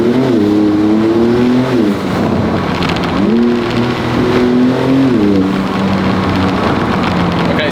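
Porsche 911 Turbo S of the 992 generation with a 3.7-litre flat-six, its engine droning loud and steady as revs climb, drop and climb again through gear changes on a bumpy forest road, with heavy road and wind roar beneath.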